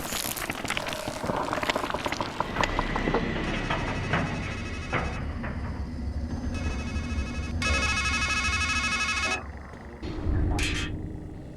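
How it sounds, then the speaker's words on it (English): A telephone rings in the PC horror game Strangeland, with bursts of a ringing tone after a stretch of clattering, eerie game sounds. "Then a phone rings"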